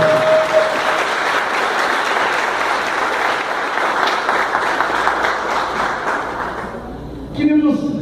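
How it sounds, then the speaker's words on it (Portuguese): A Catholic congregation applauds in church during a Corpus Christi homily, dense sustained clapping filling the space for several seconds before trailing off as a voice begins speaking. "Vamos aplaudir a palavra."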